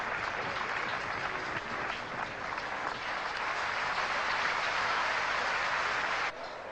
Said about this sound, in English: Great roar of applause from his local supporters here